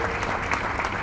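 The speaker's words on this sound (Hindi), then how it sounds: "अगर आप लोग समर्थन करते हैं तो ज्यादा जोर से ताली बजा के मंत्री जी का" An audience claps loudly to welcome a minister at a construction launch event, a dense, continuous burst of applause throughout.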